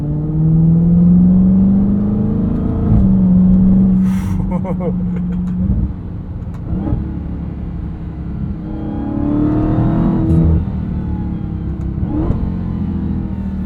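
A 2023 Dodge Charger Hellcat Widebody Jailbreak's supercharged engine drones loudly from inside the cabin, rising and falling through revs with sharp downshift blips, while someone talks over it.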